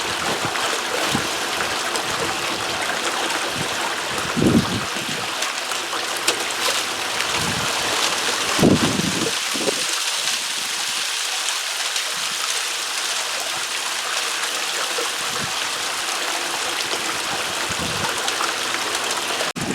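A small 1100 water pump at about three-quarters speed pushes water and home-improvement-store sand through a sluice, giving a continuous rushing, trickling wash with a few soft knocks and thumps.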